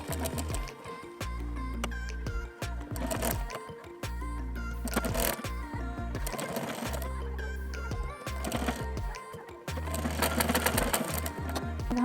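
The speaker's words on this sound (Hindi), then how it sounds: "यहाँ से हमें बिल्कुल बराबर से रखना है लेस को और इस पे किनारे किनारे से सिलाई लगाना है।" A sewing machine stitches lace along the edge of a blouse, running in loud, steady mechanical bursts separated by short pauses, close up with no voices.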